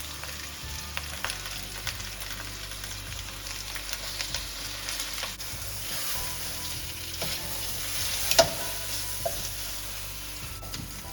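Lamb shanks sizzle as they brown in a pan, a steady crackling fry with occasional louder pops and stirring sounds, close and moderately loud with no talk.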